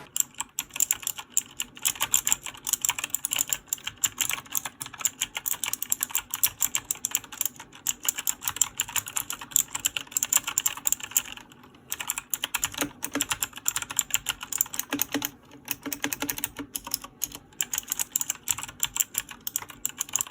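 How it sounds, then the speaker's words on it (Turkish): Rapid, crisp clicking of a G.Alya GA-5301 104-key mechanical keyboard with blue switches being typed on steadily, with only brief pauses, close up and with no voices. "şimdi rahatlama seansı olan klavye tuşlarını bir basalım"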